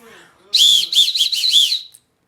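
A shrill high-pitched whistle blown loudly in four or five quick pulsed blasts, near and alone, with a faint voice before it.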